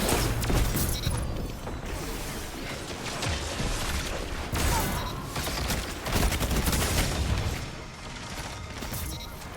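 Rapid bursts of Outbreak Perfected pulse-rifle fire in Destiny 2, loud repeated volleys in quick rhythmic clusters over several seconds, with mechanical clicks and game effects between the bursts.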